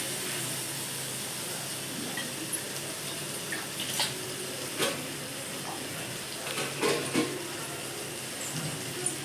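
Water pours into a hot, sizzling pan of capsicum kootu, followed by splashy stirring and a few scraping knocks.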